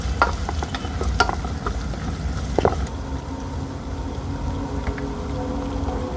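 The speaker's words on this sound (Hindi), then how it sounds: "आधा कप तेल में हमने प्याज डाली है।" Onions frying in half a cup of oil for a chicken achar gosht, a steady close sizzle with scattered stirring clinks and scrapes from a spoon against the pan.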